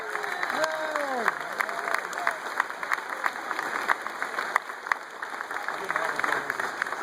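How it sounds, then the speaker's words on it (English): A crowd gives a round of applause for Manchester Community College at a veterans' event, with steady clapping and a few cheers while speech rises briefly at the start. "would you please give a nice big round of applause for the Manchester Community College"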